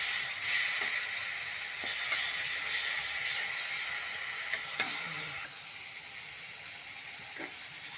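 Masala sizzles steadily in leftover coconut oil from frying fish, a close, continuous hiss broken by a few sharp scrapes of stirring, and the sizzle softens slightly toward the end.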